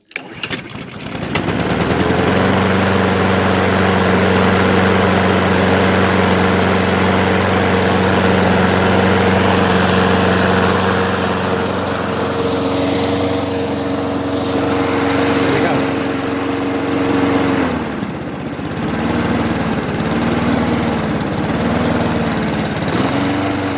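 A Mountfield lawn mower with a Honda 160cc engine starts with a quick pull and settles into a loud, steady running drone close by, its pitch wavering slightly and dipping briefly near the end.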